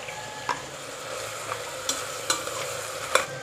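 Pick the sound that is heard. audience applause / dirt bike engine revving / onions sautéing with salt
onions sautéing with salt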